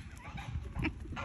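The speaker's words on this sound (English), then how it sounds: "You telling that rooster?" A rooster gives a few short clucks close by over a low background murmur, with one slightly louder burst near the end.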